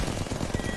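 Rapid, loud gunfire from a shooting video game, a dense burst of shots with no talk over it.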